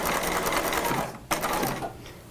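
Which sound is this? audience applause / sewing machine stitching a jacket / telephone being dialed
sewing machine stitching a jacket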